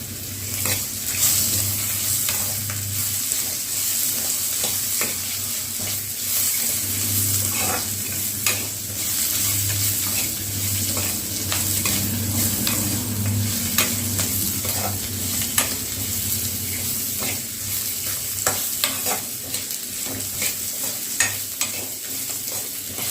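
Cashews fry in hot oil for a restaurant-style mushroom curry, with a steady loud sizzle running throughout and frequent sharp scrapes and clicks of stirring. No one speaks.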